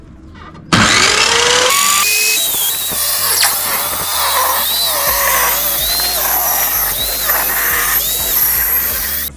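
A power saw slices through a 2.4 by 1.2 metre sheet of 18mm plywood, roaring loud and steady from start to finish with a high whine and no voices.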